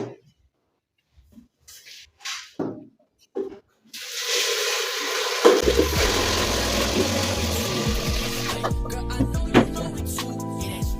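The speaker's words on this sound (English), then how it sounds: "So let us add water." Water is poured into an electric pressure cooker holding beans, a sustained splashing rush that begins after scattered handling clicks and knocks and continues loud and close for several seconds with no talk.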